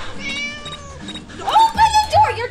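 A cat in the video game Scary Teacher 3D meows in a few close, drawn-out calls. A louder, wavering yowl rises near the end.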